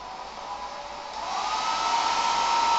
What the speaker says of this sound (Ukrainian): Вже вентилятори запустились.